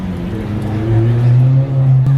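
A straight-piped BMW M4 F82 with no catalytic converters rumbles nearby in a low, steady drone that swells louder partway through and keeps droning to the end.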